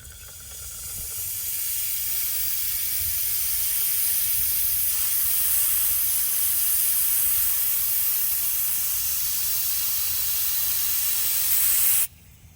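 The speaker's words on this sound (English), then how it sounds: "we're gonna take an air compressor like you see here. We're gonna blow in the line right here" An air compressor nozzle blows air into a brake line on a Polaris Indy 680 Ultra snowmobile, producing a loud, steady hiss that builds over about a second, holds for roughly ten seconds, then cuts off abruptly.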